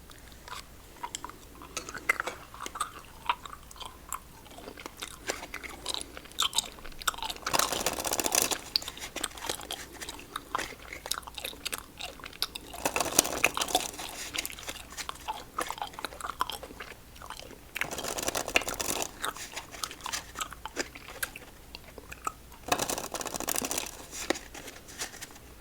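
Close-up chewing and biting of Warheads Cubes gummy candy, soft sticky squishes and smacks with bursts of crinkling and card shuffling during a solitaire game; no talking.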